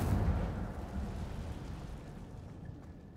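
An Incendio fire spell cast in a Harry Potter game at Hogwarts bursts out as a loud, rumbling whoosh of flame that starts strongest and slowly fades into a crackling, roaring tail, with no voices.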